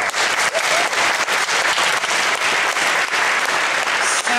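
Enthusiastic audience applause, a dense, steady wash of many hands clapping at full volume throughout with no voices standing out.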